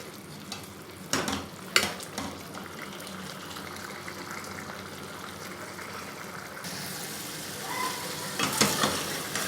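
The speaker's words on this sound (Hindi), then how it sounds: "अब इसे यूं ही छोड़ देंगे खुला, बिना ढके, हाई फ्लेम पे।" Chicken tikka handi cooks uncovered over a high flame, giving a steady frying sizzle with a few sharp stirring clatters from the pan and no talking.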